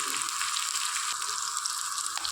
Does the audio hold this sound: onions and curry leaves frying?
yes